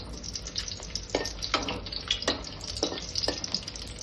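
Chopped garlic frying in hot oil in a wok, a close crackling sizzle punctuated by several sharp stirring scrapes at a loose rhythm, with no voices.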